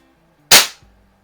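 One loud, sharp report from a Beeman QB78S CO2 air rifle, a sudden crack that fades over a fraction of a second, followed by a faint low rattle and otherwise quiet surroundings.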